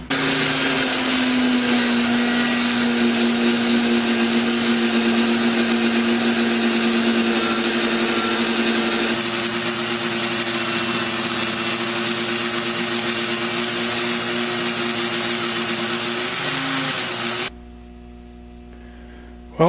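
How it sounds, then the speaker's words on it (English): Buffing wheel with white compound polishing an aluminum Mustang part, a loud steady motor whine and rushing hum that shifts pitch midway, then cuts off near the end. "I've put on a new buffing wheel to try to prevent cross-contamination from the buffing compounds, and I'm going to go over it with Jacksonella white"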